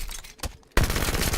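A Forerunner weapon fires in Halo 4, a loud abrupt burst of crackling energy that starts after quieter mechanical clicks and continues as a rapid rattling discharge.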